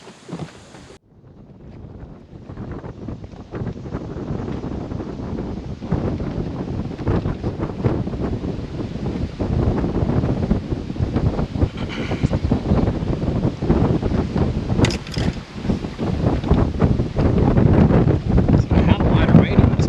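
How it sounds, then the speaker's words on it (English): Strong wind on a lake buffets the microphone in a continuous heavy roar that builds over time, with a person talking underneath. "it's so dang windy"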